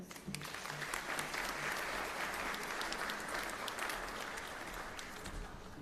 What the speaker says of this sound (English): Let us applaud the graduate, please.